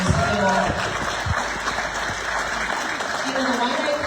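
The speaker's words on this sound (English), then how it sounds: "let's give it another round of applause for the panel speakers." Audience applause at a Waianae Coast town hall with a senator and panel speakers, steady broadband clapping filling the room with a murmur of voices mixed in.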